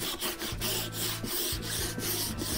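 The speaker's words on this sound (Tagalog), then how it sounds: "Inuna ko muna lihain dito sa ilalim." Sandpaper rubbing back and forth across the underside of a workpiece being prepared for powder coating, a steady rasping scrub in regular strokes about every half second, close and fairly loud with no talking.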